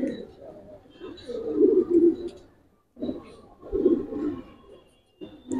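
Pigeons of a silver military fancy breed coo in low, throaty rolling phrases, two clear bouts separated by brief pauses, close and fairly loud with faint background sounds.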